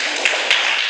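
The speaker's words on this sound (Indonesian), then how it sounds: "Mari kita tepuk tangan." A group of students in a school classroom clap together in a brief, dense burst, loud and near, with a couple of sharper claps standing out.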